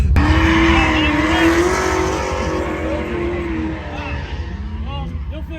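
A BMW E36 drift car at a drift event roars loudly and steadily with a sustained, wavering engine note and tire squeal running throughout, gradually easing slightly toward the end.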